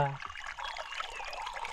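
Water pouring from a pump pipe in a forest setting in the Konkan, a brief steady splashing trickle, close and moderately loud, after a short low hum at the start.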